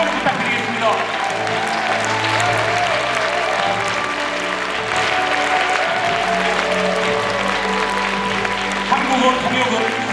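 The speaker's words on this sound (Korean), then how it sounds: "큰 감사의 박수와 환호를 부탁드리겠습니다" An audience at the opening ceremony of a Korean unification rally claps steadily for the full stretch, a dense wash of applause held at an even level with a low hum of voices and faint talk beneath it.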